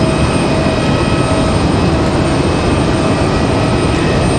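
Airliner roaring through a steep go-around at Raleigh-Durham International Airport, a loud, steady, broadband engine rumble with faint tonal whine, sustained throughout and nearby.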